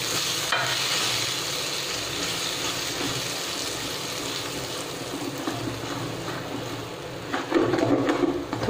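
Green pea paste roasts in ghee in a pan over low heat, a soft continuous sizzle with scraping stirring strokes throughout, fairly quiet and close.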